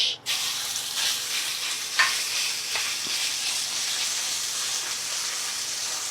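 Ground meat frying in a pan for a Filipino torta, a steady broadband sizzle with stirring scrapes and a few sharper clatters, fairly close, with no talking.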